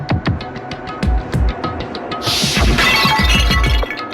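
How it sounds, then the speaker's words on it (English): Glass bottle smashed over a head in the Danganronpa video game, a loud shattering crash with scattered tinkling shards, following a run of sharp rhythmic hits, with no talk. "I grabbed the Monokuma bottle from the shelf and smashed it across her head!"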